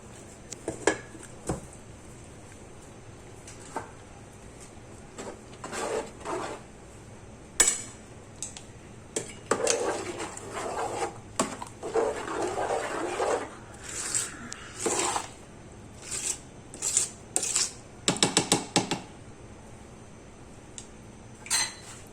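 Daleem being mashed in a cooking pot, scraping and clinking with a utensil in irregular bursts, some close and sharp, with no talk.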